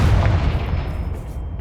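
Confringo fire spell blast in Hogwarts Legacy on PS5, a loud booming burst with a rumbling low-end tail that fades over a second or so.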